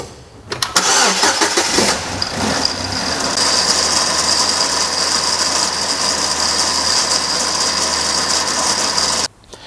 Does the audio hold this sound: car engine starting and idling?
yes